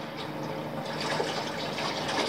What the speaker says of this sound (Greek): τώρα βάζουμε το αντιπηκτικό